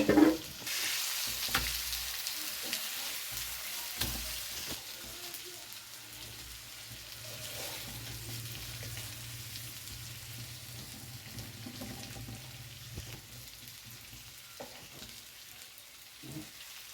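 Fish frying in a pan gives a steady hissing sizzle with a loud clatter at the start, faint scrapes as pieces are turned, and a low hum running beneath.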